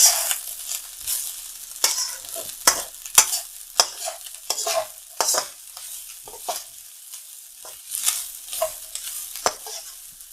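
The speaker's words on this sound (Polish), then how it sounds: "I teraz tą łyżką spróbuję rozprowadzić ten olej." Oil spread around a hot pan with a spoon while rice and vegetables fry for omurice, giving scraping, stirring strokes over a steady soft sizzle, close and moderately loud with no talking.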